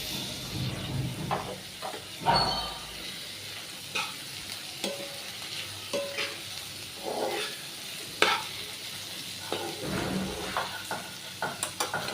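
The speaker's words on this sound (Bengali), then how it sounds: "তো পেঁয়াজগুলো ভালো করে ভেজে নেব" Onions frying in a pan, a close steady sizzle with frequent scraping and stirring knocks from a spatula at an uneven rhythm.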